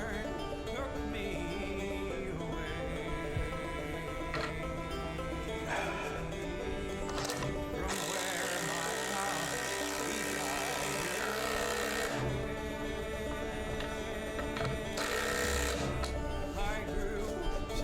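Ryobi and Milwaukee impact drivers sinking a 6-inch lag screw into wood, a continuous rattling hammer-drive buzz with bursts of harsher high-pitched clatter, loud and close throughout.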